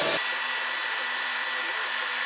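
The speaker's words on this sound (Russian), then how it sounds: "Делает сверление." A drill bores a hole through an injector well cup in the cylinder head of a Volkswagen T5 1.9/2.5 TDI, giving a steady, loud broadband grinding whir that runs without a break from just after the start.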